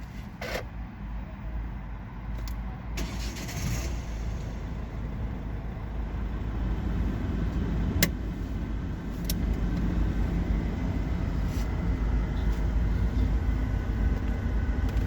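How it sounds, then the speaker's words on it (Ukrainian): A 2010 Ford Focus engine rumbles steadily at idle, a low continuous drone with a few faint clicks and knocks near the start. "Давайте глянемо, як авто заводиться."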